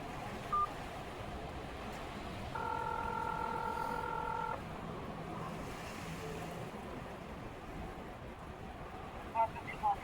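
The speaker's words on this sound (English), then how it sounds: "enter the 10-digit phone number associated with your account and press pound" Touch-tone keypad tones from an automated bank phone line, a steady run of DTMF beeps held for about two seconds at mid-level over a constant hiss, with short clicks near the start and end.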